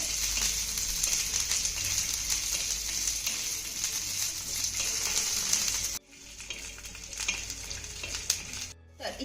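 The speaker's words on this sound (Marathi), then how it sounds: "आता हे शेंगदाणे आपल्याला खमंग खरपूस भाजून घ्यायचे" Peanuts roast in hot oil in a pan, a loud continuous sizzle and crackle with stirring that drops briefly after about six seconds, then resumes more unevenly, with no voices.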